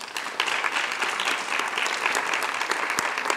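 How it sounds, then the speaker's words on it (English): Steady applause from a school audience at a lecture-series event, honoring staff members as they stand; dense clapping held at an even level throughout. "please applaud for them"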